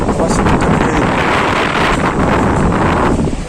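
Strong wind at Oceana beach in Digha, a loud continuous roar of gusts buffeting the microphone that covers everything for the whole stretch.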